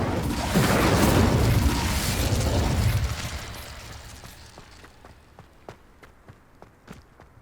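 A fire spell cast in Hogwarts Legacy on PS5 erupts as a loud broad whooshing roar for about three seconds, then fades into a low rumble with scattered sharp crackles and taps.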